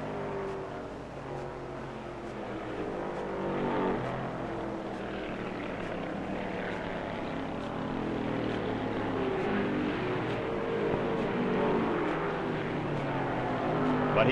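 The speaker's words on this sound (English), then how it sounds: "Curtis Turner, number 41, whips the Ford out of the pack and takes the lead" 1966 NASCAR Ford stock cars racing on the dirt track at Hickory Speedway, a continuous engine roar that swells slightly toward the end, heard from a distance in an old, muffled recording without voices.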